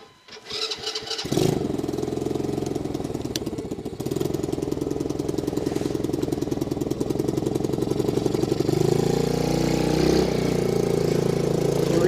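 Small dirt bike or ATV engine with the choke on, pull-started with a few sputtering cranks before catching, then running in a loud, raspy, rapid idle close by that surges up slightly later on.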